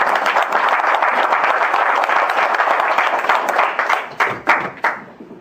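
An audience at a founding general meeting of a maritime arbitration association in a large auditorium claps loudly to welcome a speaker, a dense steady round that thins into scattered individual claps near the end.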